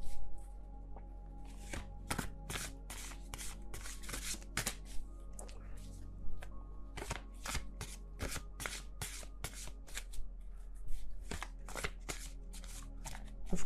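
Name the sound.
shuffling a tarot card deck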